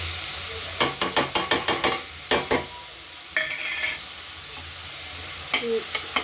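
Chopped onions with fennel seeds, cardamom and cloves sizzle as they are sautéed in a pan, a steady close frying hiss broken by quick bursts of spoon scrapes and taps against the pan.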